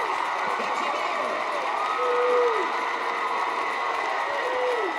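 A high school football stadium crowd at a LaGrange vs. Troup game keeps up a steady, full roar that swells slightly midway, with a commentator talking over it.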